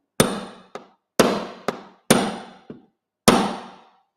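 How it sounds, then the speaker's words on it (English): Sharp metallic hammer blows on a bolt used as a punch, driving model railway track pins home; seven strikes arrive in loose pairs of a heavy hit and a lighter follow-up, close and clear with no talking. "what I've got here is a bolt that I use for just driving them home"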